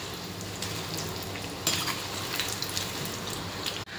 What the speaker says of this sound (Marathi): आपण आता हे काढून घेऊया आणि याच पद्धतीने बाकीचे जे पकोडे आहे ते तळून घेऊया